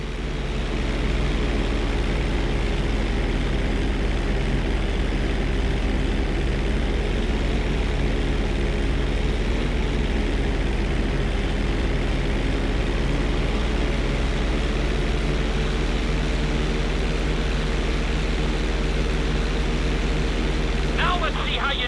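A propeller airplane flying and rolling in GTA 5, a steady loud engine drone that holds throughout, with a voice talking over it.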